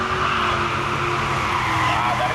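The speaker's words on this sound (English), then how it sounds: "A V8 powered car in the right-hand lane." A V8-powered race car in the right-hand lane roars hard at a time-run event, a dense, loud, steady engine blare held throughout with no pauses.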